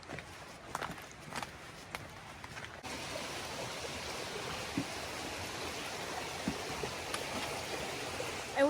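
Long Creek, a mountain stream on the Benton MacKaye Trail in North Georgia, rushes in a steady broadband wash that grows louder and fuller partway through, with a few footsteps and brief movement noises nearby at the start.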